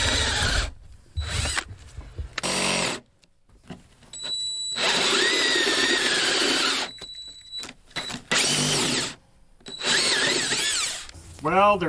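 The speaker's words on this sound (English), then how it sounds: "I'll try my 1-inch Forstner bit and see if that'll do it." A 1-inch Forstner bit bores into a metal door hardware plate, the drill whirring in several loud close bursts of a few seconds each, separated by short silences.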